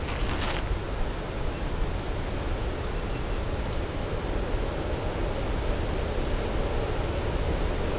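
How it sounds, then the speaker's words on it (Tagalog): Steady rushing water of the Malico river, a dense continuous broadband roar heard up close alongside a cold, windy campsite, with wind buffeting mixed in and no clear voices. "lagasa ng hangin. Tubig sa ilog."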